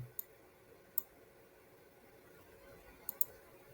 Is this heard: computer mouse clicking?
yes